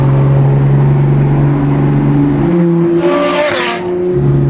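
A Porsche 992 GT3 RS flat-six engine screams close and very loud, its pitch climbing to a high-revving peak near the redline, then dropping briefly and picking back up on a mountain road.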